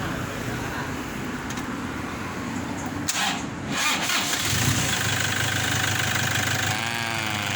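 2013 Toyota Vigo Champ pickup engine cranking and catching, then settling into a steady mid-pitched idle with a faint whine, close and fairly loud throughout.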